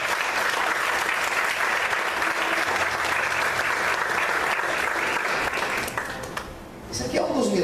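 Loud, sustained applause from a large church congregation at an evening service fills the space, then tapers off near the end.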